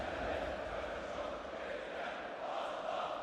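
Steady roar of a large football crowd at a World Cup match in Baku, continuous and distant-sounding, filling the whole span without breaks.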